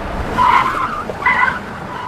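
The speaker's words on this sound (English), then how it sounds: "Screech." Car tires screech twice as a vehicle skids, each shrill squeal lasting about half a second, loud and close over a low rumble, with no talking.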